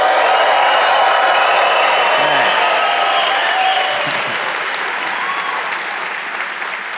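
Awards ceremony crowd applauding and cheering loudly, a dense continuous roar of clapping that holds steady and tapers only slightly toward the end.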